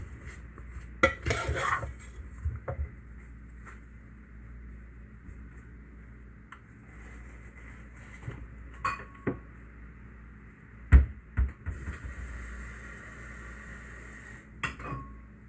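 A food mixture stirred in a dish, with irregular clinks and scrapes of a utensil against the bowl, some sharp taps standing out over quiet pauses.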